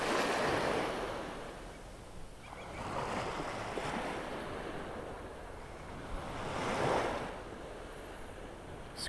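Ocean waves rolling onto the beach in North Naples, Florida, on a quiet morning, a steady wash of surf swelling and breaking in slow surges, moderately distant with some wind noise and no voices.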